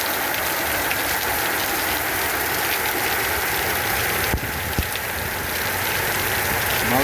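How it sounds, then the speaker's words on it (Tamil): Steady rain falls over a plantation, a dense continuous hiss of drops on surfaces, loud and unbroken, with a brief knock partway through. "தண்ணி எப்படி வருதுங்க மழை பெய்யுது."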